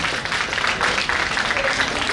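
An audience breaks into applause, a dense, even patter of many hands clapping at moderate loudness that holds steady for a couple of seconds.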